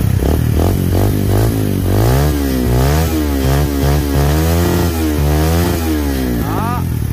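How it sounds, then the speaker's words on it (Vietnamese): A 2017 motorcycle engine runs loud and close, revving up and down repeatedly in rising and falling sweeps over a steady idle. "mình sẽ vào phần chi tiết nổ máy luôn"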